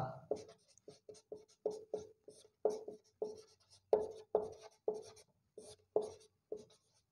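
Chalk or pen writing out a definition during a Hindi-language mathematics lecture, heard as a rapid series of short, crisp strokes and taps in uneven bursts, close and clear with no talking over it.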